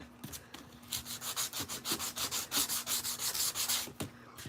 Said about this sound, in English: I said, I wish I could use my electric sander